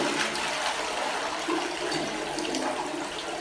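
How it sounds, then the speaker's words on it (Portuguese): A toilet being flushed in a bathroom of a studio apartment under renovation, a loud close rushing of water, steady and continuous, with no talk. "É apertar a descarga."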